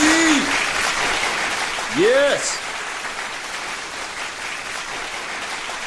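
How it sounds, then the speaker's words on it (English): A steady wash of clapping applause fills the clip, with a short spoken reply and a couple of brief swooping tones. "I'm going to give you a big, huge round of applause for that"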